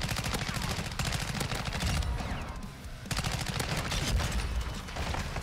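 Rapid bursts of gunfire from a close-quarters video game shooter on the Shipment map, with dense automatic volleys running almost continuously, briefly easing mid-clip before resuming at full intensity.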